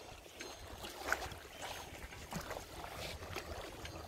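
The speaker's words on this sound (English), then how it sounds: "you can hear the sea" Sea near the Chapora River on a North Goa beach: a soft, continuous wash of waves and wind rumble, fairly faint and steady with slight swells, with no voices.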